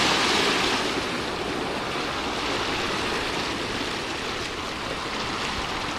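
Ocean waves wash steadily onto the shore as the tide comes in, a continuous broadband rush of surf and foam at moderate level with no distinct breaks and no voices.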